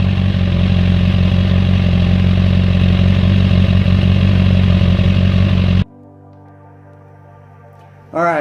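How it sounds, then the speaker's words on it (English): Motorcycle engine idling in neutral close up, a loud steady rumble that cuts off abruptly partway through, leaving near silence before a short noise at the end. "You know, the bike's in neutral."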